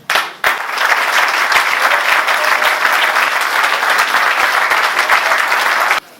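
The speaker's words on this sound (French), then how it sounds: "qu'on vous applaudisse aussi" Sustained audience applause at a symposium, dense and steady, starting abruptly and cutting off near the end, with no talk over it.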